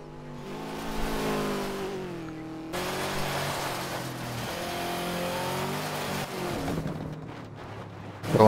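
A rally car engine in the racing video game Dirt 2 revs and accelerates steadily, pitch climbing and dropping through gear changes, loud and close with no talk.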